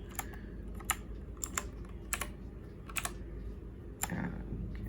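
Typing on a Redragon K551 mechanical gaming keyboard with pudding keycaps: irregular clusters of sharp, close key clicks over a low background hum, with no speech.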